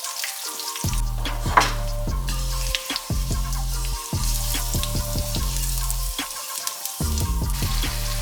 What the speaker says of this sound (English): add your oil and your chilies and saute for a minute till your oil turns a nice reddish color